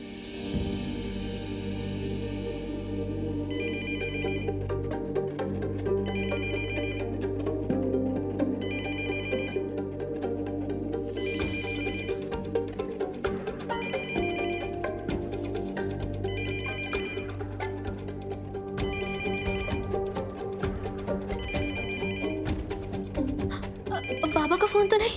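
A telephone bell rings in repeated bursts, rising and pausing over and over above background music, with voices talking underneath.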